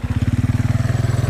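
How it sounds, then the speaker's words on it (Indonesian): A motorcycle passes close by on the street, its loud engine putting out a fast, steady, throbbing low rumble throughout, with no voices. "Awas, ada motor."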